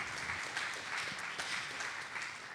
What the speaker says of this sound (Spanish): un aplauso le damos al Señor por salvarnos